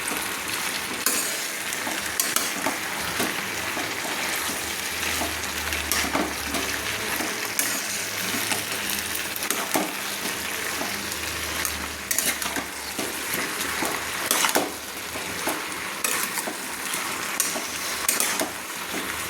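Fish head cooking with Malabar spinach, pumpkin and salt in a pan sizzles in a steady, continuous hiss for the whole stretch, with occasional close scrapes and clinks of stirring and no talk.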